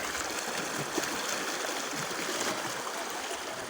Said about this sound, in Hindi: ये पानी भी कितनी स्पीड से जा रहा है, बहुत स्पीड है पानी की जी